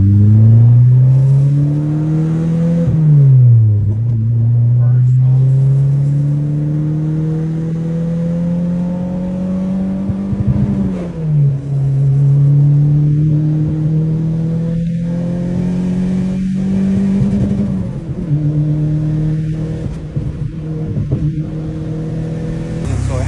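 Customer car's engine heard from inside, revving steadily up in pitch under throttle past 5,000 RPM, dropping at each shift and climbing again, loud and continuous with occasional speech underneath.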